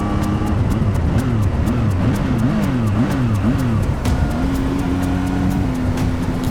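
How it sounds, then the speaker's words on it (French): A Zontes 703F motorcycle's exhaust revs continuously and loudly, its pitch rising and falling in quick surges before settling into a steady drone. "écoutez le pot d'échappement"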